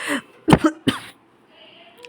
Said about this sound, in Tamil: பேசும்போது இருமல் வருது.